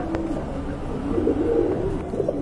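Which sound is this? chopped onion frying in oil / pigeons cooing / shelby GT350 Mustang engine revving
pigeons cooing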